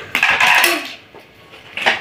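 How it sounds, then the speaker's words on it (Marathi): A stainless steel 3-litre pressure cooker and its lid are handled with bright metallic clanks and scrapes, close and loud, then a quiet pause before another clatter. "हे स्टेनलेस स्टीलचं कुकर आहे आणि हे 3 लिटरचं मी घेतले. हे असं झाकण आहे."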